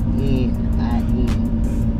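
A 1980 Oldsmobile Cutlass cruises along with a steady low engine hum and road rumble from inside the car, while voices speak faintly over it.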